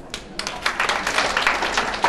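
Audience applause at a company sales meeting, a brief stretch of dense, steady clapping at moderate loudness over a hall's background.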